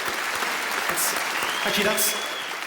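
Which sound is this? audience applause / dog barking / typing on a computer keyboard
audience applause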